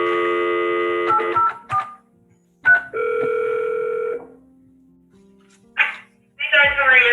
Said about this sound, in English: I'm gonna give Miss Miss Gramy a call real quick